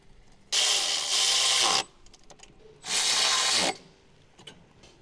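Bolts on a 2013-2020 Ford Fusion turbo cartridge install are tightened with a socket and wrench: two loud, sustained whirring bursts, each over a second long, with faint clicks between and after them, close up and with no talk.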